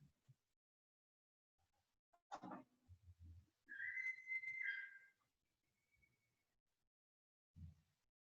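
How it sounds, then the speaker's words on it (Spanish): A single person whistles a short, bright tune for about a second, fairly close, between scattered soft knocks and bumps in an otherwise quiet room. "Por allá alguien silba."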